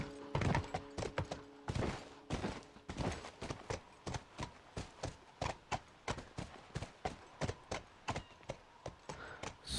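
Horse hooves clip-clop steadily as a rider travels in The Last of Us, a quick, even rhythm of close, distinct hoofbeats that runs through the whole stretch with no other sound.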